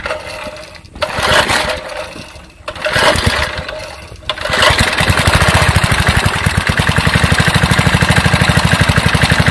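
A 2 hp Briggs & Stratton engine on a worn, beat-up lawn edger sputters unevenly during starting, then settles into a loud, steady, rapid chugging run close by.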